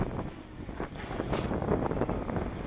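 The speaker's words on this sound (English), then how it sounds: "It is windy." Wind buffets outdoors during a winter flight of a modded MJX Bugs 3 Mini drone, a steady, close roar of gusts rumbling against the microphone with no voices.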